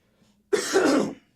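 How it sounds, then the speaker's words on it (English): A single throat clearing, close and fairly loud, lasting under a second after a quiet moment. "clearing my throat here"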